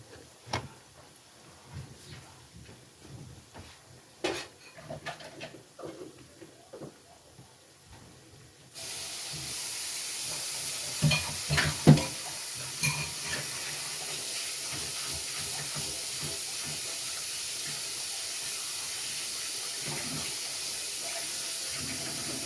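Oxtail pieces browning in a pot: scattered clicks and small thuds at first, then a loud, steady sizzling hiss takes over and runs continuously, close and broadband, with occasional pops and clatters.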